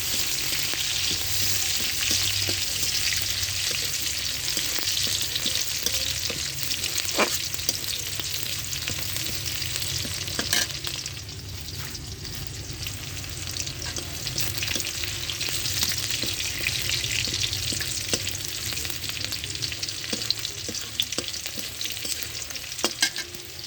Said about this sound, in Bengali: রসুন আর পেঁয়াজ ভালোভাবে আমি ভেজে নেব।